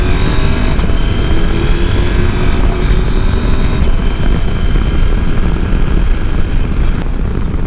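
A KTM 890 Adventure R with its roughly 890 cc parallel twin engine drones steadily at close range while being ridden, a continuous loud engine and wind roar with no talking.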